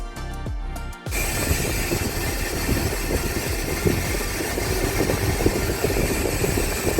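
A Perfect Aire air conditioner on its high setting, with a loud, steady broadband whir of the outside fan starting after a brief moment and holding constant throughout, with no talking.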